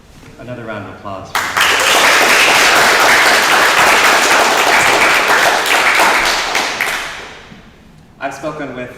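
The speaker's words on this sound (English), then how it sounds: "Another round of applause." A burst of loud audience clapping at a storytelling salon swells after a short spoken line, holds steady for several seconds, then dies away before talk resumes.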